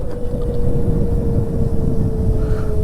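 A 72v Razor MX650 electric bike with a welded freewheel cruises along, giving a steady, loud motor whine with constant rushing wind and road noise throughout.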